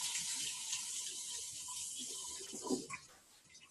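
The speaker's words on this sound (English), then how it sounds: "I'm going to be washing my cucumbers" Cucumbers are washed under a running kitchen tap, giving a faint, steady hiss of water with light splashing that fades out near the end before a small clunk.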